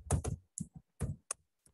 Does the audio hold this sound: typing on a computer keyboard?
yes